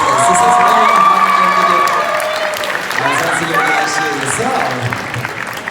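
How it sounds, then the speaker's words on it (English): Audience at the Mr PI 2019 pageant at Columbia University in New York City bursts into loud applause with cheering, whoops and shouts, a dense close crowd roar that slowly tapers off. "give them a round of applause for making this so far, and for all the contestants"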